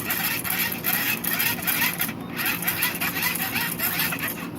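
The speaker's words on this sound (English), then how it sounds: "The more you crank it, it seems to get brighter." A hand crank on a dynamo lantern STEM building toy whirs in a steady, continuous grinding buzz with rapid ratcheting pulses, close and fairly loud, running throughout without any voices.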